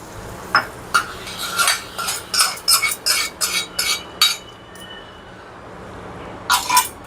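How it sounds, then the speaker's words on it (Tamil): Tempering of spices being poured into a pot of freshly boiled raw tomato kootu, heard as a run of close, rhythmic metallic scrapes and clinks of a spoon against the vessel, pausing briefly, then two more stirs at the end. "இப்போ நம்ம வந்து தாளித்ததை இதில் சேர்த்தலாம்."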